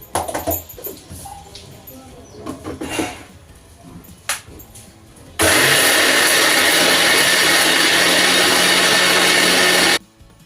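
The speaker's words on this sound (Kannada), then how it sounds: "ಈಗ ಮಿಕ್ಸಿ ಹಾಕ್ಕೊಂಬರನ್ರಿ ಚಟ್ನಿಗೆ" Mixer grinder blending roasted peanuts, onion, garlic and dried chillies for peanut chutney, a loud steady whirring run of about four and a half seconds that cuts off abruptly, preceded by kitchen clatter.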